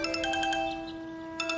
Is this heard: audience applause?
no